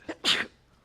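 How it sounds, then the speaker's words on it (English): A single sharp sneeze at a city council meeting, a brief inhale followed by a louder burst, then quiet room tone. "I just didn't want to sneeze into the microphone"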